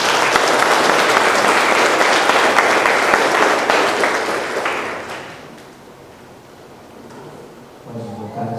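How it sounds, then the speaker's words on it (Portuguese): Congregation applauding inside a chapel during a Catholic Liturgy of the Word service, loud, dense clapping for about five seconds that then fades to a quieter room with a faint voice near the end. "A eles, uma salva de palmas."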